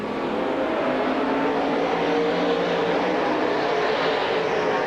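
Field of stock race cars at Silver Spring Speedway roaring together at the green flag start of a 1992 race, a loud continuous engine drone sustained throughout with no talk.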